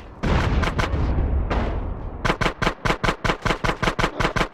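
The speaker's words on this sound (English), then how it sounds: "Shoot out the gate!" Automatic gunfire in GTA San Andreas hammers out as loud rapid bursts. A dense volley opens, breaks off briefly, then a steady stream of evenly spaced, punchy shots follows.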